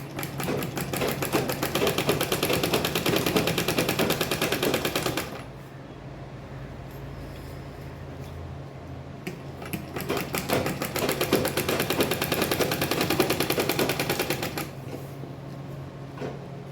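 Sewing machine stitching a fabric bag along its edge, running steadily in two loud bursts of rapid mechanical chatter separated by a quieter pause, with no talk.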